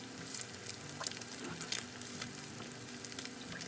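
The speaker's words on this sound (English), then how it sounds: "just cook them until everything is no longer wet looking with your eggs" Farm-fresh eggs fry in a pan with a steady, soft sizzle and faint crackling pops, quiet and continuous with no talking.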